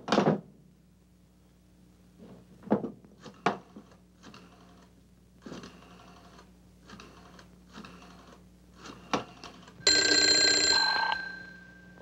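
Telephone ringing in a 1952 Mexican crime drama film, a loud bright ring burst after a stretch of scattered clicks, knocks and handling noises in a quiet room, no voices.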